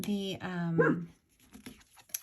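A dog gives a short bark or two close by, partly overlapping a person talking, then quiets down.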